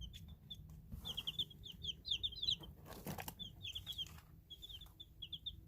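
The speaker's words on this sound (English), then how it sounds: "Beautiful little birds." Young chicks peep in quick clusters of bright, high chirps, close and steady, mixed with soft wing flutters and faint rustling.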